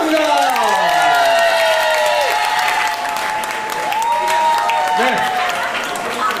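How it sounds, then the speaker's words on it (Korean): Audience at a salsa anniversary party bursting into loud sustained applause and cheering during a candle and cake celebration, dense clapping with whoops and festive music, while a host speaks briefly over the noise. "여러분들이 한번 하나, 둘, 셋 박수를 쳐주시면"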